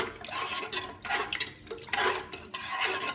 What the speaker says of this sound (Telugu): ఒక్కసారి కలబెట్టుకోవాలి